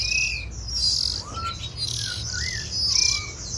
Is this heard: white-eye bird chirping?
yes